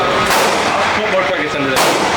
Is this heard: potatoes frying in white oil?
no